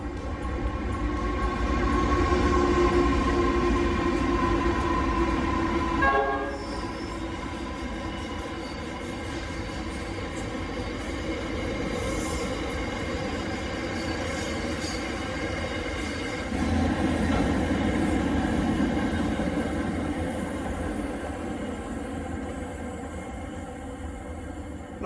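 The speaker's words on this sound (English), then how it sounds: "I guess I was lucky enough to be here when a train actually went through." A train rumbles steadily through a station for the whole stretch, with low rolling wheel noise, faint metallic clatter and occasional higher squeals, loud and close.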